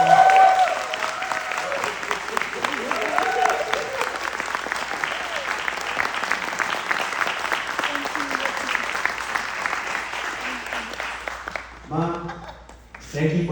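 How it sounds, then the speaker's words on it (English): Sustained applause fills the room at a US Navy officer ceremony, steady dense clapping from a gathered audience lasting around eleven seconds before easing off as a voice begins speaking. "Can we please give my parents a round of applause?"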